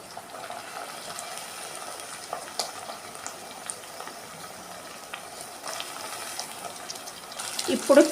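A spoon scrapes and stirs through ginger-garlic paste and ivy gourd sizzling in a pan for curry, a faint continuous sizzle with light clinks, growing louder near the end.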